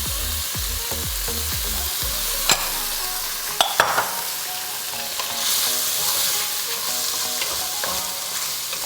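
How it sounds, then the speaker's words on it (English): Rice frying with garlic in a pan gives a steady bright sizzle throughout, with a few knocks and clatters of tossing early on and near the middle; no one speaks. "And then I drain the rice, and we're just gonna throw that in there."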